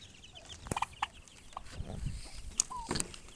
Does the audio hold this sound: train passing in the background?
no